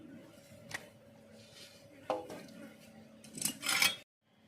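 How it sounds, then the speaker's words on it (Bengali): Knife and cutlery clatter while tilapia is cut into pieces in a home kitchen: scattered clinks and scraping taps, a sharper clatter near the middle and a louder burst toward the end, then sudden quiet. "এবার মাছগুলো এক এক করে কেটে নেব।"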